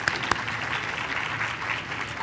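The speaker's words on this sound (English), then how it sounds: "another round of applause" Audience applause after a speaker at a 2021 legislators' conference session on the Tuskegee syphilis study, a steady dense clapping that fills the short stretch with no talk over it.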